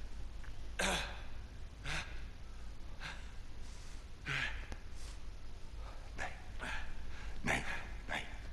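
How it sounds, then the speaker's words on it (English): A rabid dog in Uncharted 3 barks and snarls in sharp, repeated bursts of about one per second, with breathy gasps between them over a low background hum. "Rabid dog."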